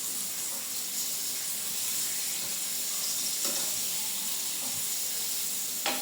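Raw banana kofta frying in hot oil gives a steady, even sizzling hiss, with a few faint crackles and pops scattered through it.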